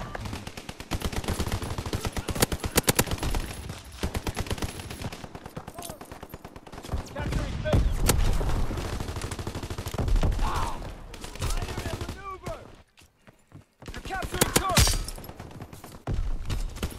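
Chatellerault light machine gun firing in Call of Duty WW2, rapid bursts of automatic gunfire repeating across the stretch with brief pauses, loud and close, mixed with game effects.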